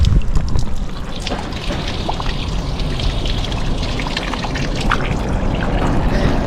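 Fresh water running steadily from a public drinking fountain in Rome, a loud continuous splashing pour close by with no voice.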